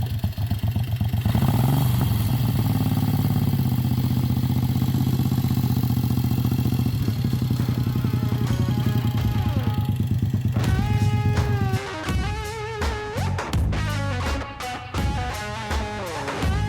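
A mud motor boat engine runs hard at about 5,200 RPM, a loud, steady drone that holds for about twelve seconds before it drops and surges with uneven revving and clattering bursts.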